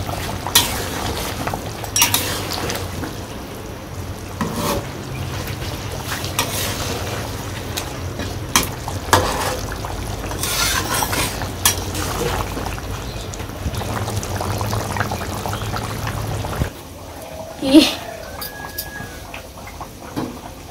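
Garam masala going into a curry in a pan and being stirred: continuous scraping and clinking of a utensil against the pan, with a faint sizzle, then quieter near the end with a single sharp clink.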